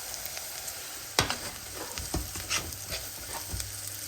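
Pilau rice mixture being stirred in a pan after a teaspoon of salt goes in: a faint, steady sizzle with scattered scraping and tapping of a spoon against the pan.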